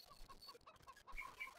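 Chickens cluck softly in a farm coop, scattered short calls at an even pace, faint and fairly distant against a quiet background with no one talking.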